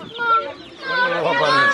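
A small fancy-breed chicken clucks close by in short, rising calls, with people talking over it.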